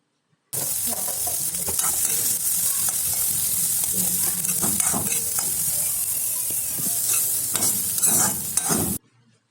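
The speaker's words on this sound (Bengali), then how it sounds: "পেঁয়াজ কুচি, কাঁচামরিচ আর রসুন কয়টা দিয়ে একলগে ভালো করে বাইজা নিমে" Chopped onion, green chillies and garlic fry together in mustard oil over a low flame, a steady close sizzle with stirring scrapes throughout and no voices.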